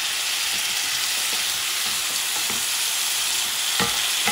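Bison stew with potatoes and pumpkin being stirred in a cast iron pot, a steady close sizzle and bubbling with a few soft scraping stir strokes throughout.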